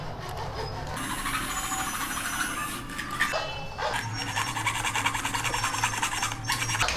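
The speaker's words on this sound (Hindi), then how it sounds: "सबसे पहले इसकी कटिंग करूँगा वो लोहे काटने वाले ब्लेड से करूँगा" A metal-cutting hacksaw blade saws through hard acrylic-type ply, giving steady raspy back-and-forth strokes that run close and continuously, with a brief pause partway through.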